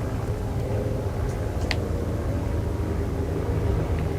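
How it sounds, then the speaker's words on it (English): A steady low drone of an airplane passing overhead outside a house, heard as continuous broadband engine rumble with no voices. "There's an airplane flying outside my house."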